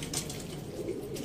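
A male slate pigeon, a crossbred, gives a soft, low cooing, faint and close, in a brief steady murmur.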